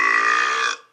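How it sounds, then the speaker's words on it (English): A single loud, sustained burp rings out close up for under a second, then cuts off sharply. "how dare you burp in class?"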